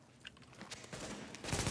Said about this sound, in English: Just shoot them with a gun.